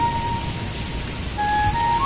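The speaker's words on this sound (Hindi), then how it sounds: "पूरा बधर आ रहा है बारिश, देख सकते हैं आप।" Downpour in a rural village, an unbroken loud rushing hiss of heavy rain with a faint thin tone drifting above it, no voices.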